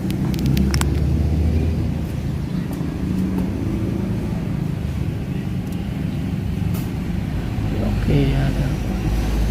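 A Suzuki Ciaz engine idles with a low, steady rumble that holds throughout, while a person talks briefly over it and a few light clicks and knocks sound nearby.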